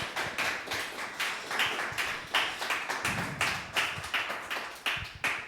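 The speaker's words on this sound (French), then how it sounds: "je propose qu'on vous applaudisse et qu'on vous remercie pour cette conférence" A small audience claps at the end of a conference talk on civic service and open badges, with distinct, fairly quick hand claps in an even, moderate round.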